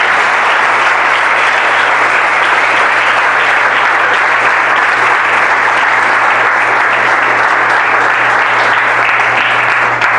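A church congregation breaks into sustained applause, a dense, loud wash of clapping that holds steady for about ten seconds without letting up.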